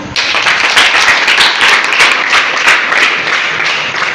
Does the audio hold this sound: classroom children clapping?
yes